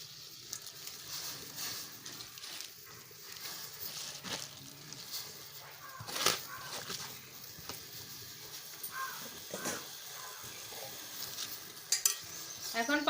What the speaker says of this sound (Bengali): এখন এই গরম জলের মধ্যে ধুয়ে আনা পালং শাকগুলো দিয়ে দেব।